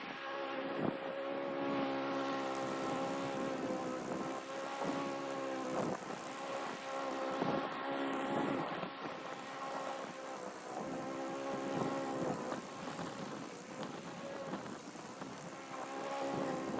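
A lawn mower motor drones steadily at a fairly even pitch under gusty wind noise, with faint rumbling and no voices.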